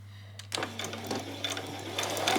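A sewing machine starts up over a low electrical hum and stitches along a pressed seam for ruffles on a spring outfit, with a quick, even mechanical patter close by.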